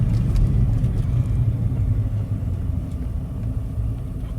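A 2002 Suzuki Carry kei truck's engine rumbles low and steady while driving, with loose rattling and road noise throughout.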